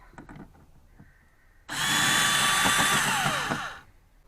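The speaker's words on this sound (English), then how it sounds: "there's 6 screws that you need to take out" A power drill or driver whirs for about two seconds, loud and close, removing screws from the rear light housing of a Ram ProMaster van after a few faint clicks and handling noises.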